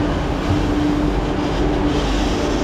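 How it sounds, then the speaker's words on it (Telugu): Steady loud engine drone and hum from inside a running Kochi water metro boat, a continuous low rumble with a faint tonal whine. "సో ఇదే మన water metro, ఏషియాలోనే first water metro actually."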